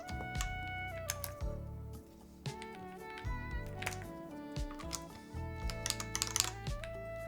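Keys clacking on a Bauer Lite mechanical keyboard build, bursts of close, crisp typing taps in quick irregular runs, with tonal background sound running underneath.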